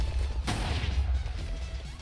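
A Tri-delta weapon in a multiplayer shooter fires one sharp, loud blast that decays into rumbling booms, set against constant low battlefield noise.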